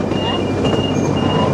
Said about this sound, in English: That's a much bigger train that they've got.